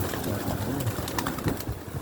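Soft cooing of pigeons or doves rises over a dense, steady outdoor noise, with several birds calling close together.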